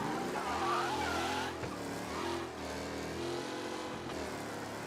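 A fast car with poor brakes in Mafia: Definitive Edition, its engine revving loudly with a brief tire skid midway, continuous and close.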